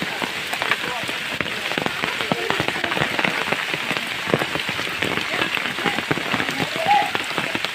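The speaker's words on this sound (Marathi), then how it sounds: "इकडं काय पाऊस जास्त आहे" Heavy monsoon rain falls through a forest, a dense, continuous patter of drops on leaves and surfaces, steady and close with a few sharper hits.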